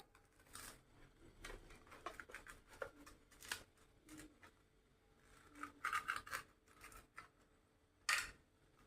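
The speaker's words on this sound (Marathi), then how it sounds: "हे दोन्ही शेवपाव भाजून झालेत, कट करून घेऊया." A knife cuts through toasted sev pav bread buns, giving soft crisp scraping and crunching strokes in irregular bursts, close and quiet, with a sharper crackle near the end.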